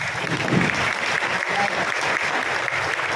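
Warm applause from students and guests at a junior high moving-up ceremony at St. Theodore School in Tagum, an even wash of clapping sustained throughout at moderate volume.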